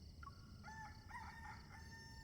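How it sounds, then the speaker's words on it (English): Rooster crowing in the Love and Deepspace video game, a single drawn-out crow in several rising and falling tonal segments, fairly faint over a steady background hum, with no talking. "The rooster already crowed."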